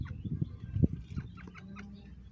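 Roosters and hens in a corral clucking, a few louder clucks near the start then softer scattered calls, close and moderate in level.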